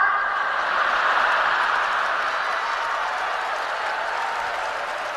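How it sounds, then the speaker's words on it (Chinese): Audience applause fills a crosstalk comedy show hall, a dense, steady wash of clapping from a large crowd that starts loud and tapers slightly over five seconds, with no voices on top. "我瞧他们这鼓掌应该是对的"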